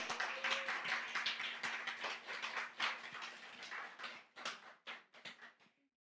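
A church congregation at a Sunday afternoon service claps in welcome, a fairly soft, steady round of applause that thins into a few scattered claps before falling silent.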